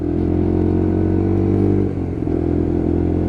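Lexmoto LXR 125cc Euro 5 motorcycle on the move, its engine droning loud and close with steady harmonic tones and a brief dip and recovery as the throttle changes, no talk.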